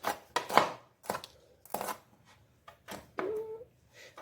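A knife chops green chilies on a cutting board for saag, a series of sharp, close knocks in an uneven rhythm, about eight or nine strikes with short pauses between, no talking.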